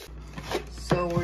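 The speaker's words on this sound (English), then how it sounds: "So we're chopping up the bellies so that we can put them in the shells and then cook them." A knife chops quahog clam bellies for stuffies on a cutting board, giving a few soft, close chops, with a brief voice near the end.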